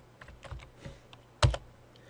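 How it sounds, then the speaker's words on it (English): Short burst of computer keyboard typing, a few soft key taps followed by one louder clack, close and quiet with no voices. "I'm going to go ahead and type the link text"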